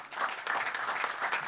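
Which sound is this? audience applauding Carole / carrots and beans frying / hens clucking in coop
audience applauding Carole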